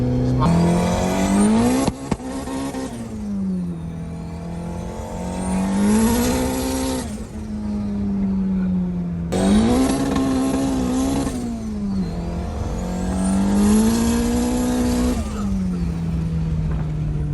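A 500hp turbocharged D16 Honda Civic sedan accelerates hard through repeated gear pulls, its engine note climbing and dropping loudly and continuously with brief shift breaks, close and dominant throughout.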